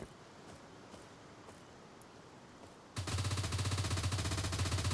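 Sustained automatic gunfire from S.T.A.L.K.E.R. bursts in suddenly after a quiet stretch with light footsteps, loud and rapid, continuing without pause to the end.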